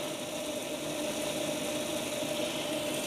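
Fleischmann DMU model train with a traditional brushed motor running on a layout, a steady, smooth, faint electric whir with a thin tonal hum, continuous and even throughout without any voices.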